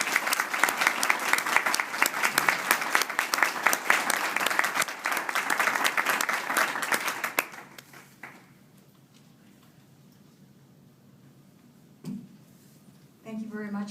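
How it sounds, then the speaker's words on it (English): An audience at a retirement gathering applauds warmly, with steady, dense clapping for about seven seconds that fades out, followed by near silence and then a voice starting to speak. "Please give a warm round of applause for Lucinda Coleman."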